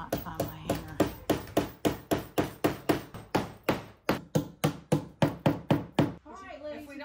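A hammer strikes hard again and again in a steady run of about two dozen loud, close blows at a workplace. The blows stop near the end and a brief voice follows.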